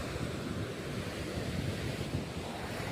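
Sea waves roll and wash steadily at the shore, a broad continuous roar mixed with wind buffeting the microphone, loud and close with no voices.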